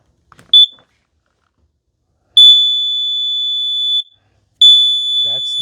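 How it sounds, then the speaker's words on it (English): Kidde plug-in carbon monoxide detector with a gas alarm sounding a test: a brief chirp, then two long, loud, piercing electronic beeps close by, with brief talk at the end. "So the first beeps you heard were gas"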